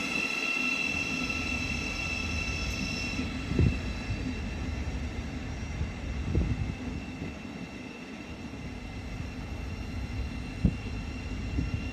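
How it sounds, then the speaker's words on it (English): A train runs through a station platform on the East Coast Main Line at Hitchin without stopping, a steady loud rumble with a few sharp clanks and a high whine over twelve seconds, no voices. "The train now approaching platform 1 does not stop here."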